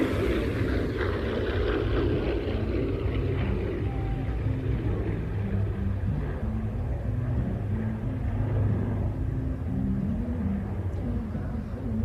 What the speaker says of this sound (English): lovely rumble from those double wasp engines